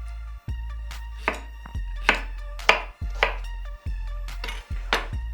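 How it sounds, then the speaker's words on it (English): A knife chops rhubarb stalks on a board in a steady run of sharp, close knocks, about ten in five seconds, with no talking. "first I'll just, cut the rhubarb and keep it in the container"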